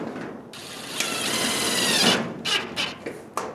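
A power driver sinks a self-tapping screw to mount a box in a garage, a loud whirring grind lasting about two seconds followed by a few short buzzing bursts.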